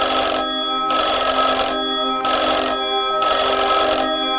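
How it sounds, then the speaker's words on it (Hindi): A telephone rings loudly and close, a bright electronic bell tone in four even bursts separated by short gaps, with no voices over it. "अरे अब ये फोन किसका आ गया"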